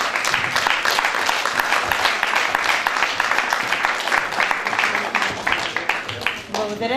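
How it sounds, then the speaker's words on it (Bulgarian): An audience applauds at a community cultural center's anniversary concert, dense sustained clapping throughout with speech heard partly over it toward the end. "Аплодисменти, канени на сцената."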